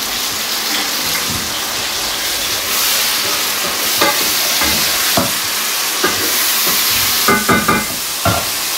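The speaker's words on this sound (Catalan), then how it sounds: "és el moment de posar-li el tomàquet" Canned chopped tomatoes hit a hot frying pan for mussels a la marinera and get stirred, steady sizzling and frying throughout with scraping stirs and clinks of the utensil growing more frequent toward the end.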